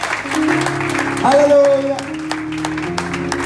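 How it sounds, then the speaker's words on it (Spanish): Congregation clapping for the Lord at a church wedding ceremony, mixed under a loud sustained sung or shouted voice and held tones. "Dale un fuerte aplauso al Señor."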